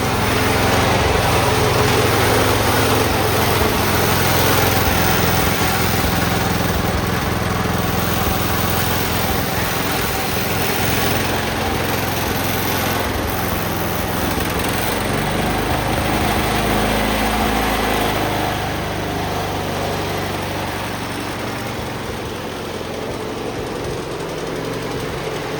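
A Cub Cadet 1204 garden tractor with 2,500 hours runs just after start-up, its small engine chugging loudly and steadily up close, then easing slightly softer toward the end.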